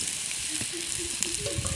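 Bitter gourd fries in oil, giving a dense, continuous sizzle that stays close and loud, with faint tonal bubbling threaded through it.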